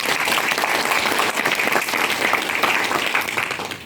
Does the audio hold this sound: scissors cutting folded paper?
no